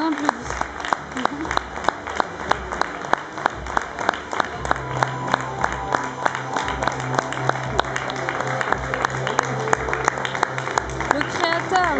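An audience at a fashion week runway show for Amaya Arzuaga claps steadily and loudly for a sustained stretch, with a voice talking over the applause.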